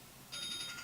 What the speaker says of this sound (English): Your phone's going off.